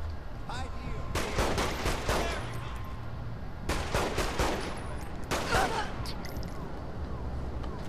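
A minigun in Saints Row The Third fires in long, dense bursts of rapid gunfire with short pauses between them, loud and continuous over a busy game background.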